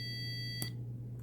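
An EZ900 dog training collar sounds its tone as a steady high-pitched electronic beep, heard faintly throughout with a soft click partway through and a quiet room hum beneath.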